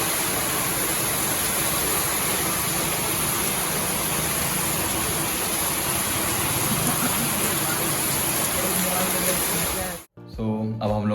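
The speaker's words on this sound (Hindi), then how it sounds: "यहाँ पे बारिश बहुत भयंकर होने लगी।" Very heavy rain pouring down in Bundelkhand near Khajuraho, a dense, loud, continuous roar filling the whole stretch, cutting off abruptly near the end into quieter sounds.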